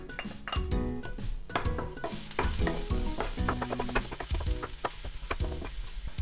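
Steady sizzling of garlic frying in sesame oil in a hot pan, with repeated clattering scrapes and taps of stirring throughout.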